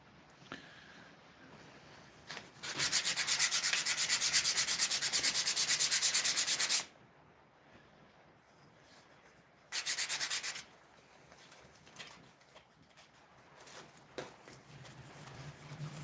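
Walnut wooden spoons are sanded in a workshop: a loud, steady abrasive rasp that runs for about four seconds, pauses, then returns in a shorter burst among quieter handling sounds.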